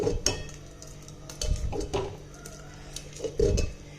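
Jaggery is stirred in a pot of moong dal and sago payasam until it dissolves. A ladle gives repeated soft scrapes and clinks against the metal pot in an uneven rhythm, with a few heavier knocks, and there is no talking.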